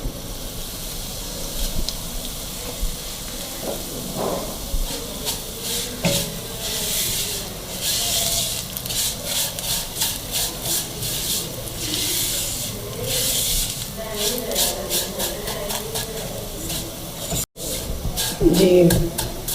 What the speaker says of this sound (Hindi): जी, सेवइयाँ हमने देसी घी में थोड़ा भून ली है।